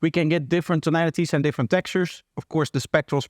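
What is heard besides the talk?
No distinct noise like a dog, phone or traffic.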